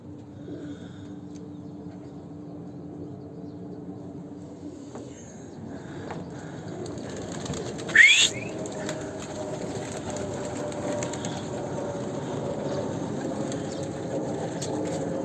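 Pet pigeons in a loft give low, steady cooing through the clip, with a sudden burst of wing flapping near the middle, then calmer rustling and cooing afterward.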